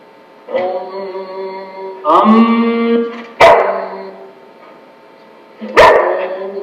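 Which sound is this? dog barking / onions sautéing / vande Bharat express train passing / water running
dog barking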